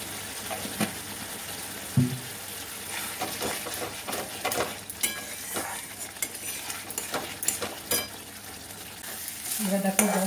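Ghee going into sizzling masala for a jackfruit kofta curry, with a spoon stirring and scraping through a soft, crackling fry in uneven bursts, quiet and close.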